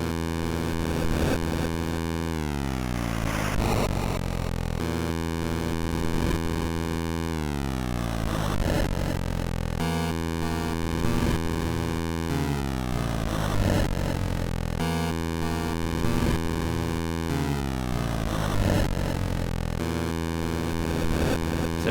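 A Game Boy chiptune intro composed in GB Studio plays loud and continuous, with buzzy square-wave melody and sweeping pitch runs over hissy noise-channel percussion, repeating in roughly five-second phrases with no voices.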